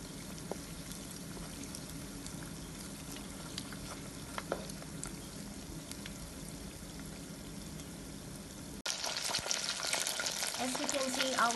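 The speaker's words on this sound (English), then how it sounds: "You have to fry it. Yeah, just wait it until it's become fry." Chicken spring rolls fry in hot oil with a steady, close bubbling sizzle that holds for a long stretch, then grows suddenly louder and brighter near the end.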